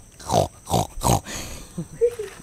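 A person imitates a pig with three loud, snorting grunts, followed by a few softer, shorter vocal noises and light laughter.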